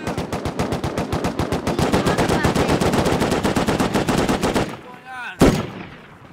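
Rapid automatic gunfire in a video game fires as one long, evenly spaced burst for several seconds, loud and close, then stops, leaving a single sharp blast shortly after.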